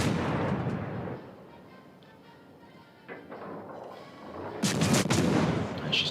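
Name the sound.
naval cruiser guns firing blind in a warship video game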